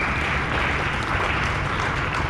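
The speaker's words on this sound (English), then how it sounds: "we'll clap for that." Dense, steady applause from an audience at a live SolarCon 2024 event, many hands clapping together at close range without a break.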